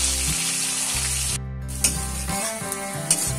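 Carrots frying in a pan for mixed rice, a loud, continuous close sizzle with a brief dip and a few stirring clinks, no talking.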